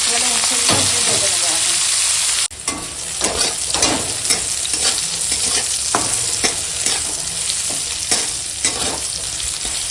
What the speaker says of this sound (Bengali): এখানে কড়াই দিয়ে দিয়েছি সরিষার তেল এবার দিয়ে দিলাম করলা